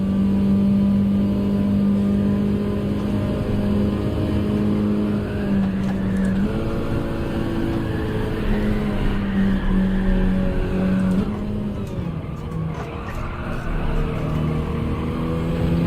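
A VTEC engine in a car in Gran Turismo 7 revs high and steady, then dips and climbs again through gear shifts, a loud continuous drone with rising pitch sweeps and no talk.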